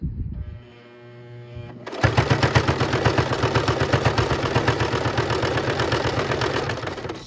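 After a brief quiet hum, a sewing machine starts stitching a handbag seam, running a fast, steady, rhythmic clatter of needle strokes at close range to the end.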